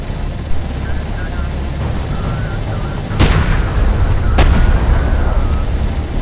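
Combat gunfire from strike craft in the strategy game Homeworld: Deserts of Kharak: a steady rumbling battle din, with two loud broadband bursts of fire cracking through midway and the barrage swelling louder afterward.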